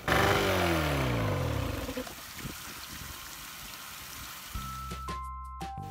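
A Johnson/Evinrude outboard motor runs steadily with a rough mechanical drone while being run dry during winterizing, revving briefly at the start, then cuts out, leaving a few faint clicks and a short tonal whine.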